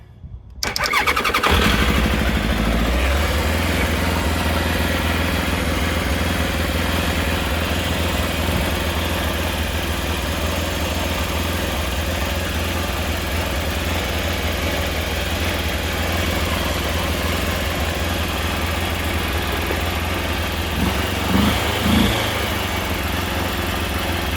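A Trophy two-stroke motorcycle engine cranks and catches, then runs steadily at a buzzing, sputtering idle close to the microphone, with a brief rev near the end and no talking.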